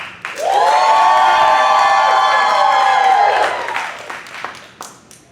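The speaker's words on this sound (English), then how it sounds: "Clap it up for Jim." Comedy club audience at the Miami Improv bursts into loud sustained cheering, whooping and applause for a contestant, holding strong for about three seconds before thinning out into scattered claps.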